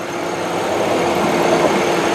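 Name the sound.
2000 Ford Windstar minivan engine idling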